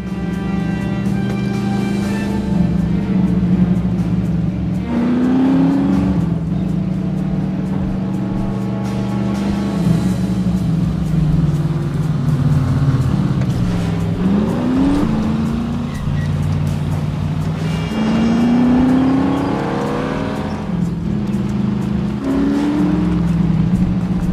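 Car engine in The Saboteur video game roaring steadily throughout, with rising revs, gear shifts and occasional tire squeals as the vehicle speeds along, loud and close, no talking.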